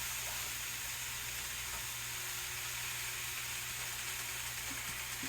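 Roasted garlic cloves go into a hot pan with cabbage and sautéed peppers, producing a continuous, even sizzle with a faint hiss and occasional light stirring, no voices present.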